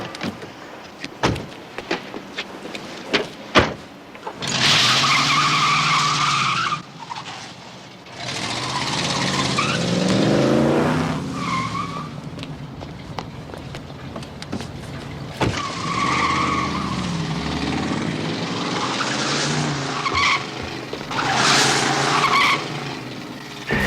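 A car revs hard and pulls away fast, tires skidding and squealing in repeated bursts, with engine roar swelling and fading between sharp clicks and door-like knocks, loud and close.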